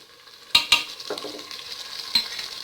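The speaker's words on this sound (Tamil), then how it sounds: "இந்த இஞ்சி பூண்டு பேஸ்ட்டு சேர்த்துக்கிறேன்" Ginger garlic paste sautéing with onions in a pan: two sharp spoon clanks against the pan, then a light sizzle and scraping, with another clank near the end, close and moderately loud.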